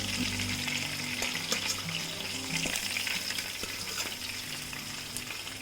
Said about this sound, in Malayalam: ബാക്കിയിരിക്കുന്ന ചിക്കൻ പീസസ് ഇതുപോലെ തന്നെ ഇട്ട് ഫ്രൈ ചെയ്തെടുക്കാം